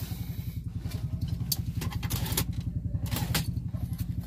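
A Kia CD5 engine with a misfiring spark plug runs nearby at idle, giving a steady, rapid throb throughout with scattered clicks and clatter on top.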